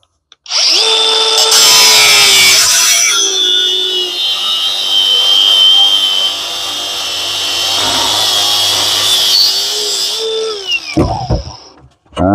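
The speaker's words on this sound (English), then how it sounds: "So now we take our grinder and we just want to cut" An angle grinder cuts into the cast aluminum casing of an electric motor, a loud steady high whine with a sustained cutting screech that dips briefly as pressure changes, then spins down with clatter at the end.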